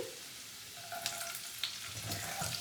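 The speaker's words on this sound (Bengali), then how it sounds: "আদা রসুনটা মোটামুটি ফ্রাই হয়ে গেলে দেবো আমি কাঁচা লঙ্কা কুচি" Chopped ginger and garlic frying in oil in a pan, a soft steady sizzle with a few faint clicks of stirring, quiet and close, with no speech.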